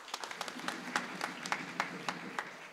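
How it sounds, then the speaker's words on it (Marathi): Audience clapping at a Marathi kirtan, a run of sharp hand claps, some in loose rhythm, at moderate distance over a low murmur in the hall. "दोघांच्याही करता जरा जोरात टाळी वाजवा"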